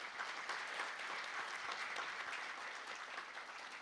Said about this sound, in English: So please give a very big round of applause to the government of Fiji.